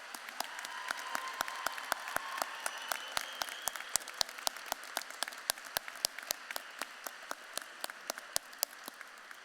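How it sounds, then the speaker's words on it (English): Graduates at a law school commencement ceremony clap for their supporters; the clapping is sparse and distinct, with individual claps ringing out in an irregular rhythm rather than a dense roar. "give a round of applause for all those who have supported you on"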